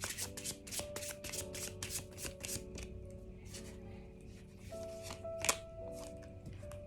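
Tarot cards shuffled by hand in quick, rhythmic riffling bursts, close and fairly soft, with faint background music underneath.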